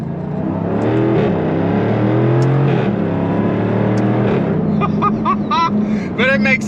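A 2024 Jaguar F-Type R75 V8 accelerates under throttle, a loud sustained engine roar with rising pitch, joined near the end by sharper higher revving bursts, with a voice talking over the first half.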